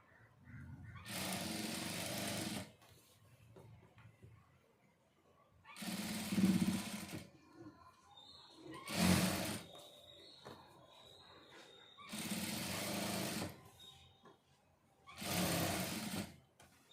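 A sewing machine fitted with a double foot stitches in five separate bursts, each lasting one to two seconds, loud and close, with quiet handling pauses between them.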